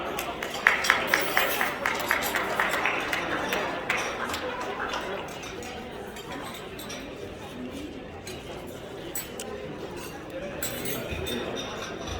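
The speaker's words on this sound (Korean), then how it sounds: "박수 부탁합니다" Crowd applause at a civic groups' rally preparing an Easter union worship service, broad dense clapping from a large audience, strongest at the start and then settling into a steady wash with faint voices and clinks underneath.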